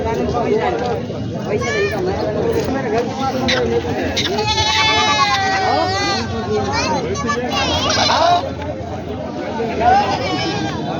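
Goats and sheep bleat repeatedly at a livestock market in Parbhani, India, their wavering cries rising over a steady hubbub of crowd chatter and children's voices.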